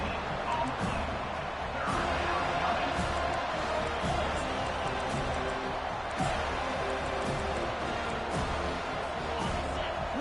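Stadium crowd from the college football video game CFB 25, a steady dense roar with scattered sharper bursts running the whole time, loud and continuous without clear breaks.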